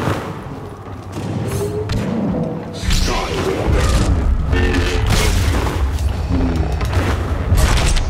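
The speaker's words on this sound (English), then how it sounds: "Somebody's shooting." Blaster shooting and heavy booms in the Star Wars Battlefront 2 video game, a loud run of thuds and bursts of fire with a player talking over the action.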